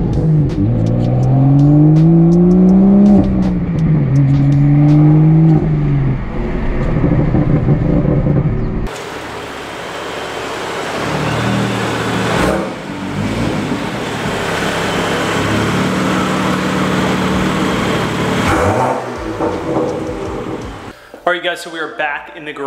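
A car engine rises and settles as the vehicle drives along the road, with steady road and tyre noise and occasional shifts in engine pitch.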